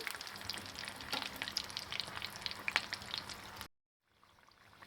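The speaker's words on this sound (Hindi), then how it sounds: "अब हम इसको पलट के दूसरी साइड भी फ्राई कर लेंगे। गोल्डन ब्राउन होने तक अच्छे से फ्राई कर लेंगे हम।" Bhakarwadi coriander rolls sizzle in hot oil and are turned over to fry the other side, a steady crackling hiss with scattered pops that cuts off abruptly near the end, leaving faint residual sizzle.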